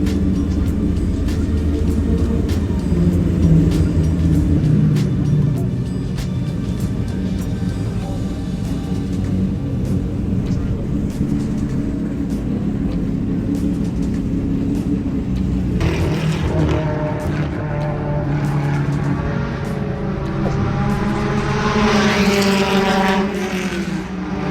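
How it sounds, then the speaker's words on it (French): Classic Ford GT40 and Ferrari P4 race cars, replicas of the 1966 Le Mans rivals, roar at the Magny-Cours circuit, a loud sustained engine drone that shifts to a higher, revving pitch as one car passes close by. "Et là vous avez donc GT40 et Ferrari type P4, donc les deux voitures qui étaient en compétition"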